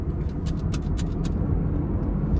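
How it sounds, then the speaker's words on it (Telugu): A car cruises in fifth gear on a road, giving a loud, steady rumble of engine and road noise, with a few short hissing bursts early on and no voices. "5వ గేర్లో పోతున్నాం ఇప్పుడు మనం 5th గేర్ వేసుకున్నాం"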